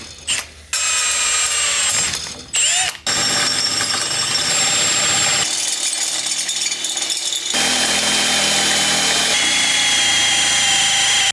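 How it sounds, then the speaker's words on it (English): A stepper bit grinds into a hard stainless steel exhaust on a turbo K24 Nissan Cefiro build, a loud, steady metallic whirring and chattering that stops and restarts a few times, with no talking. "We're just gonna drill it out, and hopefully we can use the stepper bit."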